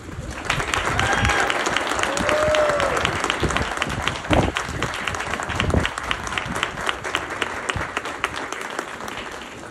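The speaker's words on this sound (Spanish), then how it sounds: "Vamos a darles otro aplauso, pero más fuerte." Wedding guests applaud loudly and steadily, a close, dense mass of clapping lasting nearly ten seconds, with some cheering voices and crowd murmur mixed in.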